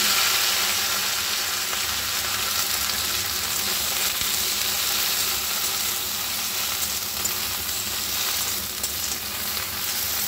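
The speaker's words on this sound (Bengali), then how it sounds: "এই যে গোটা শুকনো লঙ্কা জিরে ফোড়নের ওপরে আমি ভেন্ডিটা দিলাম" Okra tossed onto a tempering of whole dried red chillies and cumin seeds hisses in hot oil, a steady dense sizzle running unbroken and close for the whole stretch.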